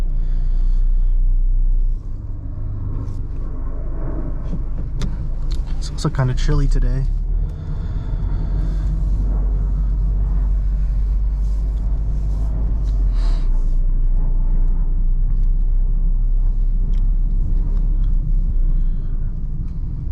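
A 2016 Mazda MX-5 Miata drives on back roads on a chilly day, its low, steady engine and road rumble droning continuously from inside the cabin while a voice talks over it.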